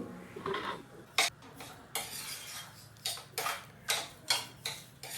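A spoon scrapes and clinks against a pan while grated coconut and sugar are stirred together with no ghee, a series of close, rhythmic metallic scrapes repeating roughly every half second with no talking.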